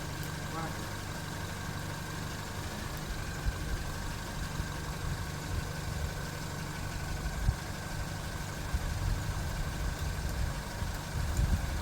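A Yamaha Fazer motorcycle engine runs steadily throughout, a continuous low idle-like rumble at moderate distance, with faint voices in the background.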